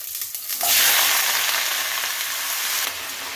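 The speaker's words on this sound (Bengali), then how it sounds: "এর মধ্যে রয়েছে পেঁয়াজ কলি আলু বেগুন শিম গাজর সব কিছু দিয়ে ভাজা" Mixed vegetables of onion greens, potato, eggplant, beans and carrot fry in hot oil with black cumin in a pan, a loud sizzle swelling in and holding steady with stirring before tapering off.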